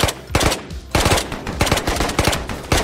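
Rapid machine-gun fire in Ghosts of Tabor, loud and close, with bursts of shots fired repeatedly over a noisy backdrop.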